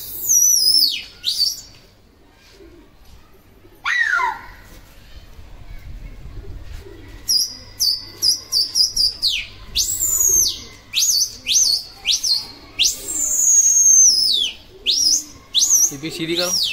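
Pet pigeons flying out in the open, with repeated sharp chirping calls and flapping bursts coming in quick clusters, loud and close, while people talk intermittently.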